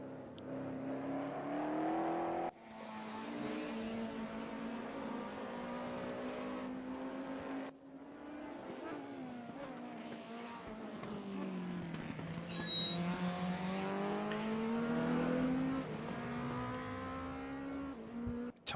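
A DTM touring car from the 1992 season laps Autodrom Most in the Raceroom racing game, its engine droning steadily and rising and falling through gear changes for the whole stretch, loud and close with no talk over it.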